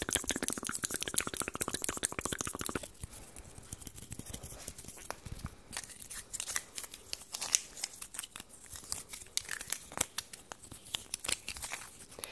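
Close ASMR scissors snipping near the ear to mimic a haircut, a fast run of crisp metallic cuts at first, then sparser snips and rustling crinkles with no talking.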